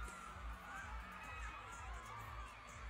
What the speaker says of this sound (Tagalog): Grabe ang crowd